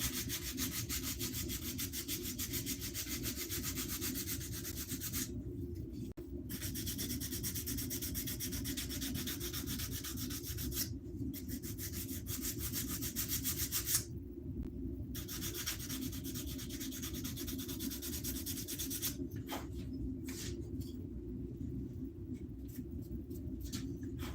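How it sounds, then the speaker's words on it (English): A power sander works over a wooden axe handle, giving a continuous gritty rasping hum that drops out in a few brief pauses before starting again, with no voices. "I've got a better sander with some more sandpaper on it here"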